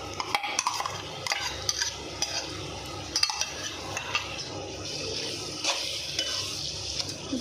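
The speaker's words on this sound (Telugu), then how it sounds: "అల్లం పచ్చివాసన పోయేంత వరకు ఫ్రై చేసుకోవాలి ఫ్రెండ్స్" A ginger and onion paste fries with goat offal in a pan. Scraping and clinking come from continuous stirring over a constant sizzle, close up, with no talk.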